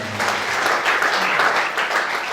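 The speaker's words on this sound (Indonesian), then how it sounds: "Yang setuju tepuk tangan." A church congregation bursts into applause, a dense, steady wash of many hands clapping at once, close and fairly loud for a couple of seconds with no talking over it.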